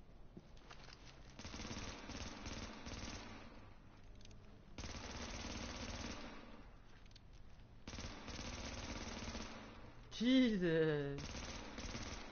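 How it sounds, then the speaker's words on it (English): Bursts of automatic gunfire from The Division crackle through most of the stretch, a dense rattling fusillade with short pauses, while a man exclaims briefly near the end. "what was that shooting?"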